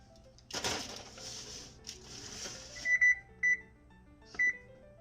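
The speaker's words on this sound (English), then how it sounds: "So I'm gonna put this in the oven now." Cookie dough going into an oven: a rattling thud of the tray and door, then a run of short electronic beeps from the oven's keypad.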